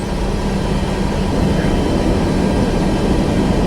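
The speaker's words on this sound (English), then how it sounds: "Alright, we got the plane starting up." Airliner jet engines spool up in a flight simulator game, a dense, steady, loud broadband roar and whine that continues evenly throughout with no pauses.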